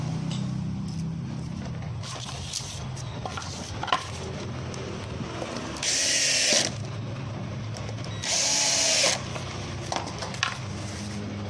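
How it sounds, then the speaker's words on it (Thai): A power drill drives screws into particleboard parts of a standing dressing table, model WD-708, during assembly; two short whirring bursts of about a second each stand out over quiet room noise, with small clicks and handling knocks between them. "ใช้น็อตไซส์นี้ ยิงเข้าไปเลย"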